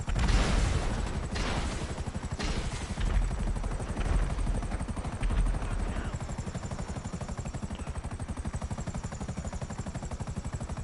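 A helicopter's rotor thumps steadily and loudly throughout, with bursts of gunfire early on, like combat in a video game.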